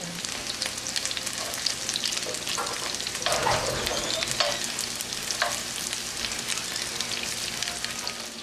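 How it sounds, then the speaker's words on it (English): Constant crackling sizzle of cod frying in hot oil in a pan, close and steady, with a few soft clinks and stirring sounds in between. "I'm frying my bacala like I did the smelts."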